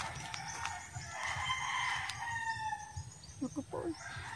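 Rooster crowing on a farm where crops are planted, a clear cock-a-doodle-doo at mid distance with a few clucks near the end over soft outdoor background.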